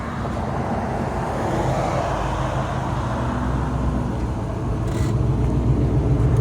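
A Ford Mustang's engine and exhaust make a steady, loud, low rumble that grows slightly toward the end, with no talk over it.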